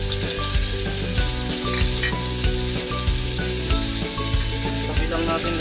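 Ginger and onion sizzling as they hit a hot pan for chicken arroz caldo, a steady bright hiss running throughout with music playing underneath.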